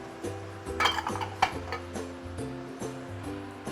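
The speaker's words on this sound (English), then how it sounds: "we will let it stir fry for a short while" Eggplant stir-frying with garlic oil in a cast iron pot: a utensil scrapes and clinks against the pot in an irregular rhythm over a soft sizzle, close, with a low steady tone underneath.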